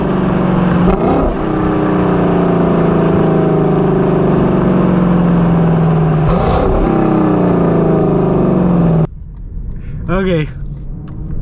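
A 2020 Lexus LC 500 drives with a loud, steady engine drone that rises and falls through downshifts, then drops away suddenly near the end as the pitch falls, with voices talking over it.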